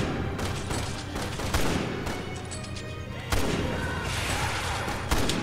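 Repeated heavy gunshots in Resident Evil 6, fired at an enemy, with loud cracks landing every second or two over a dense, rumbling battle din.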